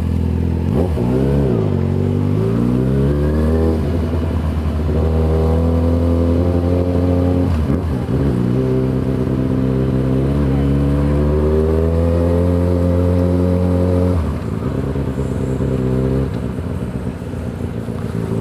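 A Yamaha XJ6 motorcycle with a crackling gearbox rides on a Londrina road, its engine loud and close, revving up and down through several gears with rising and falling pitch and a brief dip between shifts, no voices.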